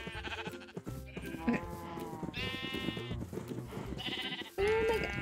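Several Minecraft sheep bleat in short, nasal calls one after another, close and clear, with no talking over them.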